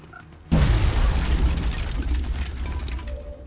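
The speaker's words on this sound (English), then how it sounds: "drop a grenade here. Here. Throwing grenade." A grenade explodes in the video game XCOM Long War, one sudden loud boom after a short quiet moment, then a long rumbling roll of debris fading slowly.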